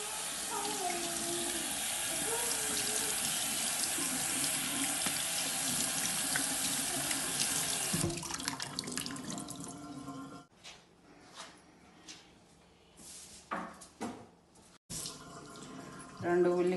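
Tap water runs steadily into a sink while a pumpkin is washed, a constant splashing rush for about eight seconds before it stops, followed by scattered drips, clunks and handling sounds.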